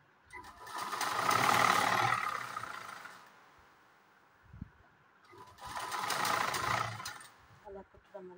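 A sewing machine stitches a Peter Pan collar in two bursts of steady whirring, each lasting a few seconds, with a quiet pause between them. The machine is close and loud, and a voice talks in the background.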